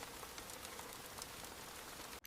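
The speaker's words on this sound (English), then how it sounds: "The sky finally opens in a relentless downpour." Heavy animated-story rain pours down in a dense, steady hiss, drops drumming on surfaces without a break before cutting off abruptly.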